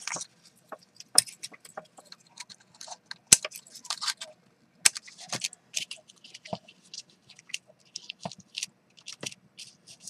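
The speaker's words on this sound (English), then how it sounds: "you're just going to cut off your ends" Scissors snip off ribbon ends, giving sparse, close, quiet clicks and sharp cuts with faint rustling of ribbon and paper between them.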